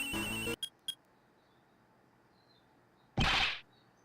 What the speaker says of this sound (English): That sound. That's your cell phone.